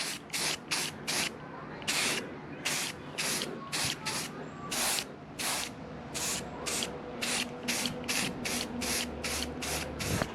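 A spray paint can hisses in a long series of short, evenly spaced bursts, close and steady, with faint background noise between sprays.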